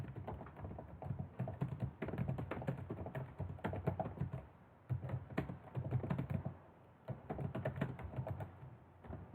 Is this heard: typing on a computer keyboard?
yes